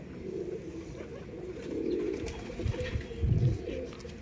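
Racing pigeon at a loft in R.S. Pura, Jammu and Kashmir, giving a few low coos toward the end of a short quiet stretch, close by over faint background hum.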